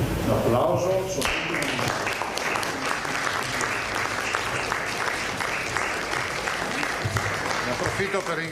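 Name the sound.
applause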